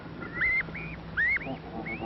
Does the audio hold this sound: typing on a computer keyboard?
no